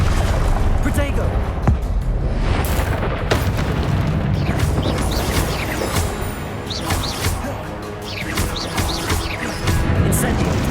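Spell blasts and explosions from the Hogwarts video game, with fire and blasting charms like Incendio and Confringo: dense, continuous booming and crackling bursts, loud and near, layered over each other throughout with sharp transient hits.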